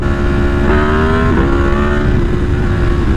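A Yamaha MT10 motorcycle engine, loud and close, holding a steady drone with two sharp rising throttle blips early on before settling back.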